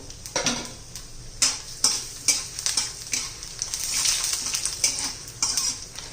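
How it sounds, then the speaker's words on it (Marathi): Coriander, cumin and chilies roast in hot oil with browned dal for a bitter gourd dish. A steady sizzle runs under a spoon that stirs and scrapes against the pan in a repeated rhythm. "त्यात धने जिरे आणि मिरची पण घालून घेऊ"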